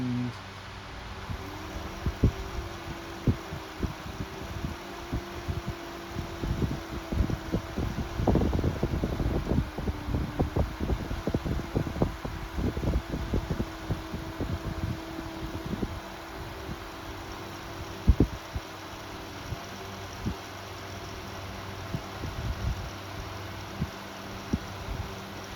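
Rowenta Turbo Silence Extreme 12-inch oscillating fan running on its turbo setting, a steady broadband airflow hum with a low motor drone, close and continuous, with scattered rustling and buffeting bursts of wind against the microphone.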